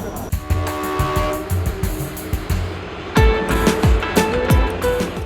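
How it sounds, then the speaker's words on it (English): The Kalka-Shimla mountain toy train rumbles along with rhythmic clacking of wheels on the rails, close by, with tonal squeals and hums rising above the steady clatter. "The Kalka-Shimla toy train covers about 60 miles, passing through tunnels, bridges, and charming old stations"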